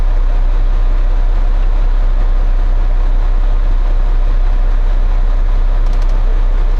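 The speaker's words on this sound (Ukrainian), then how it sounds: "Трактор заведено, трактор працює тихо, без посторонніх звуків, шумів." A Fendt 1038 tractor engine idles with a steady, loud low hum and even drone, unbroken throughout, with no abnormal noises.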